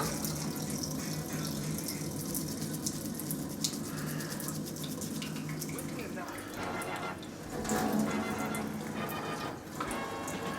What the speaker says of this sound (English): So let's turn the water on.